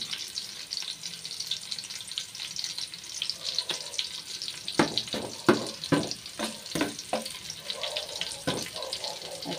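Garlic frying in a pan for ginisang monggo gives a soft continuous sizzle, with a cluster of louder clattering stir or scrape sounds in the middle, fairly close and moderately quiet.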